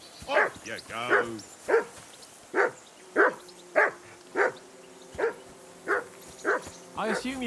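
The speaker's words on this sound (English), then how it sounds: "I assume you can hear that damn dog of yours barking." A dog in Kingdom Come: Deliverance 2 barks about a dozen times in a steady rhythm, close and distinct, with a quick double bark near the start and a faint voice underneath.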